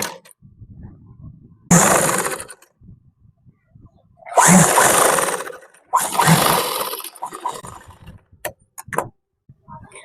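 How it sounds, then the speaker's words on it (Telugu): A sewing machine top-stitches a folded school uniform skirt in three short whirring runs, close by, separated by quieter pauses with faint handling clicks. "నీట్ గా ఫోల్డ్ చేసుకొని పై నుండి ఒక టాప్ స్టిచ్ వేసుకోవాలి"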